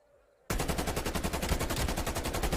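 Automatic gunfire in a competitive shooter match, a rapid, steady burst of loud shots starting abruptly after a near-silent moment and rattling on without a break.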